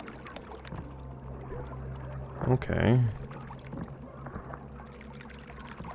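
Swimming through a strange liquid in the video game Ultros: a short, loud watery surge and splash over steady ambient game noise, with a voice briefly speaking.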